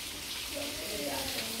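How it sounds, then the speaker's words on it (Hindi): Rain falls steadily, a soft even patter with a faint hiss, steady and moderately close, with no voices over it. "बहुत दिनों बाद बारिश हुआ है।"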